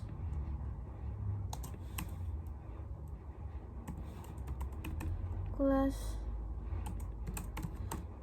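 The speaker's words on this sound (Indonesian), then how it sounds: "Kemudian di bawahnya kita ketik class" Code being typed on a computer keyboard, with rapid irregular key clicks close by over a constant low hum, briefly interrupted by a short tonal beep, while a voice speaks.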